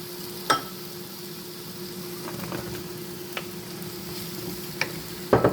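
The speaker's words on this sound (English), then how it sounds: "I'm going to add my squash and my 8-ball zucchini" Yellow squash and 8-ball zucchini sizzle steadily in a hot pan, with a few sharp clinks and stirring knocks scattered through the constant frying hiss.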